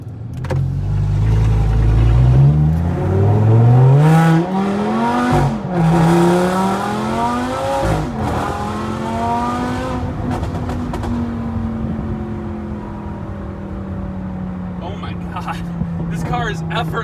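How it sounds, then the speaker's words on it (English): Loud supercharged V10 Audi R8 engine revving hard, pitch climbing through several gear pulls with brief breaks between shifts, close and roaring, then settling to a steady drone. "First impression, this thing is loud. We got the V10 right behind our ears"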